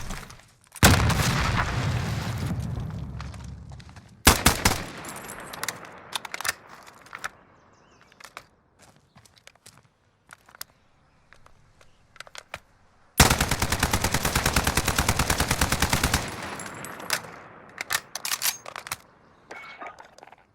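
An AN-94 rifle fires in Call of Duty: Modern Warfare, with loud dense bursts of rapid shots, the longest lasting several seconds, separated by scattered single shots, clicks and handling noises, with no voices.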